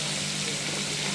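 Chapila fish frying in hot oil gives a steady, close, even sizzle that holds without a break for the whole moment, with no voices.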